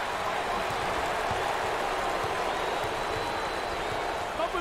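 A basketball arena crowd at an NCAA March Madness second-round game between San Diego State and Virginia cheers in a dense, steady roar that holds at full level for nearly five seconds, with no clear individual voices.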